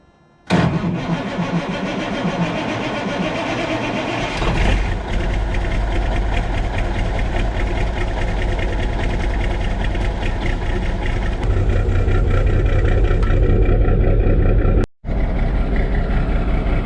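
A car engine cranks and catches after a moment of silence, then settles into a loud, steady idle that rumbles on with a brief cutout near the end, with no voices.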